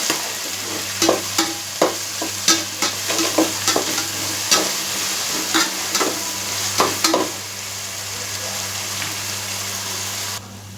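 Onions sautéing with salt in a pan, a steady sizzle broken by a run of sharp scraping stirs in the first seven seconds, then a smoother even fry, close and fairly loud.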